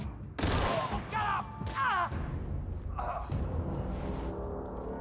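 Bursts of weapon fire in The Outer Worlds, loud booming shots with sharp attacks and ringing tails, spaced irregularly over several seconds amid game effects and a brief vocal exclamation.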